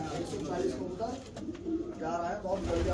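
Pigeons cooing inside a large net enclosure, soft low repeated coos blending together under nearby talk.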